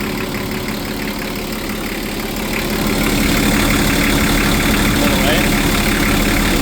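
A Cat DP50 forklift engine starts and settles into a steady mid-pitched idle that grows louder partway through, with a voice talking over it.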